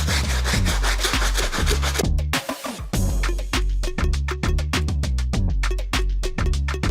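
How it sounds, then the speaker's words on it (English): A medium brush scrubs the midsole of a Nike Cortez shoe during cleaning, giving loud, close, rhythmic back-and-forth bristle strokes in a steady fast pattern with a brief pause near the middle, no talk. "We will use the medium brush. Wipe it down."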